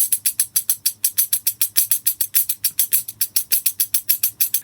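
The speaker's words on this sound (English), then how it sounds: "For the tambourine, I used this one." A Clapbox tambourine played live for percussion shakes in a fast, steady rhythm of bright jingling bursts, close and loud with no other sound.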